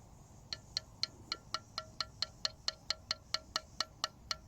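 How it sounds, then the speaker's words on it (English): Ceramic pottery from a pit firing gives a steady run of about seventeen light, sharp ringing clicks at a quick, even pace, faint and close against a quiet background. "That's the sound of ceramic."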